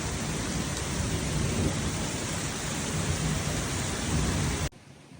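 Heavy rain pours over a lake during a thunderstorm at an outdoor power-saw event, a dense, loud, steady roar with thunder rumbling beneath, ending abruptly into near silence.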